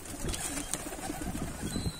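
A domestic pigeon of the type sold at auctions as a wedding bird coos softly in a few low, throaty rolls close by, with faint rustling and background noise around it.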